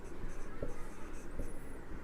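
Soft scratching of a pen or chalk writing a sentence during a chemistry lesson, a few short strokes and taps close by, quiet and alone.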